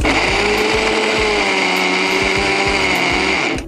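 A kitchen mixer grinder whirs steadily as it grinds almonds, its motor droning loud and close with rhythmic knocking from the jar throughout, then spinning down at the end.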